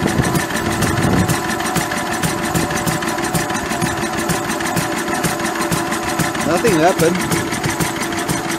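A Lister D diesel engine coupled to a generator runs steadily at a mid-pitched, even chug close by, while someone talks over it throughout.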